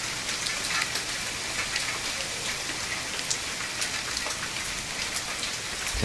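Steady rainfall in the survival game The Forest, a dense constant hiss of drops pattering on surfaces with scattered sharper splashes, even in level throughout and with no voices.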